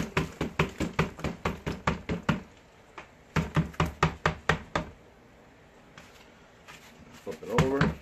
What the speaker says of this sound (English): And then I smack it.